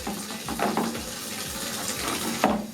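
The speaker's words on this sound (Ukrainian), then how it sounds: "І просто промиваю його струменем води." Cylindrical filter from a Zelmer 829.0 ST Aquos water-filter vacuum cleaner rinsed under a running tap, a steady close gush of water splashing over it with small shifts as the filter is moved, and no talking.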